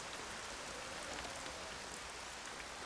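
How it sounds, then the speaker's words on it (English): Steady rain falls in the video game Everybody's Gone to the Rapture, a dense, even hiss of rain on surfaces that continues without a break and with no voices over it. "how in the world did it all of a sudden just start raining for no reason?"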